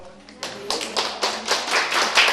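Students at a Korean real estate agent exam prep class clap for their professor on the first day, scattered claps quickly building into dense, close applause that keeps growing louder to the end.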